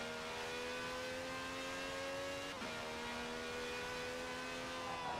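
A V12 car engine in Forza Horizon 4 holding a steady high-pitched drone, briefly dipping in pitch midway as it shifts, then climbing and holding again, continuous and even with no talk.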